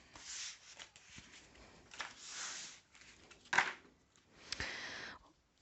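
Tarot cards are shuffled by hand at close range, giving soft, faint riffling and sliding bursts in an irregular rhythm with quiet gaps between them.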